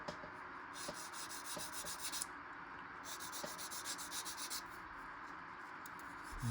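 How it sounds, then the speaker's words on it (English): A small file rasps against a plastic model kit wing part from an Academy Spitfire Mk XIVc, quiet and close, in bursts of repeated back-and-forth scraping strokes separated by short pauses. "So it just takes a little bit of filing."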